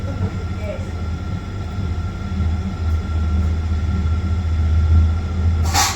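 A Mumbai local train running at speed, heard from on board as a loud, steady low rumble that swells slightly midway, with a brief clatter at the end.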